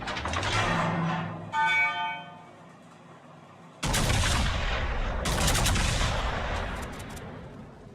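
A warship in World of Warships firing high-explosive shells, two loud booming salvos with ringing tails separated by a brief lull, close and forceful with no talk.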